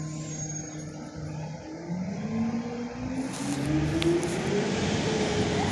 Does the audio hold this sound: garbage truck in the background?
yes